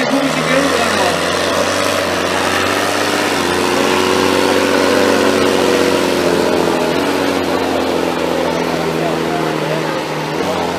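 A 9000 cc pulling tractor engine roars loud and steady at a pulling event in Pezzolo, a dense continuous mechanical rumble that dominates, with an announcer talking over it.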